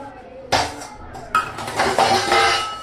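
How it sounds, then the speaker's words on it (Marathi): Pots and pans clatter at a home sink during dishwashing, with two sharp metallic clanks followed by a run of rattling, scraping kitchenware close by. "तर म्हटलं भांडी तरी घासावं."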